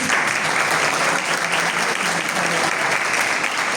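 A crowd applauds steadily throughout at a solidarity night for street animals, a dense even wash of clapping with no pauses.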